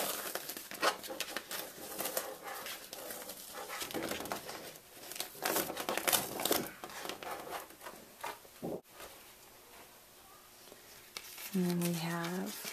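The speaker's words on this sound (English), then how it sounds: "Peel the paper off." Backing paper is peeled by hand off a freshly cut heat-transfer sheet for a birthday shirt, giving several scratchy, papery tearing bursts at close range, with a brief voiced sound near the end.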